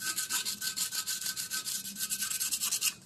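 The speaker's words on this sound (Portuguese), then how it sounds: "Então ou pode lixar com água ou pode lixar seco mesmo" Hand sanding a rusty car wheel with coarse 100-grit sandpaper, a steady rapid back-and-forth rasping scrape with even strokes, close and fairly loud, with no talking.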